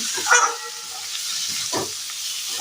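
Spices sizzling with fried potatoes in a pan for a Bengali-style fish curry, a steady bright frying hiss with a brief louder crackle near the start.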